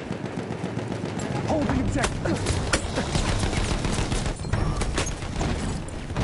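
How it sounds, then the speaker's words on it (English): Gunfire crackles through a Battlefield 1 Conquest match on PS4 Pro: rapid, overlapping shots and bursts from several directions form a dense, steady din, with a voice talking over part of it. "Had people shooting from everywhere"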